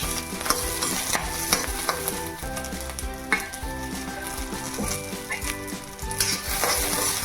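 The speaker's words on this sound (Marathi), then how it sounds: "मिरच्या अशा होईपर्यंत भाजून घ्या" Green kurtani chillies roast and sizzle in a pan, a continuous close crackle with scraping stirs and light clinks throughout, no voices.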